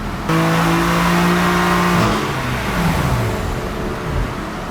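A BMW F80 M3 fitted with an Eventuri intake running on a dyno, the engine revving hard through rising gears with a loud sustained roar, then the pitch drops and the engine winds down near the end.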